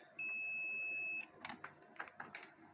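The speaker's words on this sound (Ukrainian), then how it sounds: "Високовольтна сторона пищить." A steady high-pitched electronic beep from the short-circuited high-voltage side of a solar inverter under repair rings for about a second, then cuts off, followed by soft clicks and handling noises nearby.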